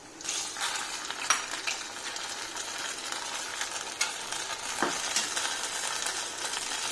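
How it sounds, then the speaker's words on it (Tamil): A spoon stirs rava kesari in a pan after fried dal is tipped in, giving a steady close scraping and faint sizzling with a few sharper knocks against the metal, no talking. "நல்லா கிளற போகிறோங்க."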